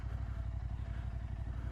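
A Continental motorcycle, stripped of its fairing kit, being ridden with a steady, loud low engine rumble and rapid regular firing pulses throughout, alone without talk.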